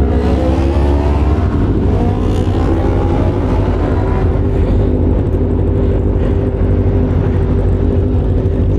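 An inline-four big bike engine holds a loud, steady high rev, its dense mechanical roar running continuously from start to finish with no one talking.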